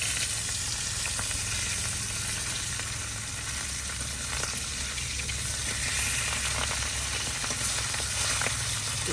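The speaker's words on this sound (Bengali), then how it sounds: "মাছগুলা উল্টাই দিই" Pieces of fish frying in a pan at home, a steady, close sizzle and crackle with faint stirring and scraping running through, no talking heard.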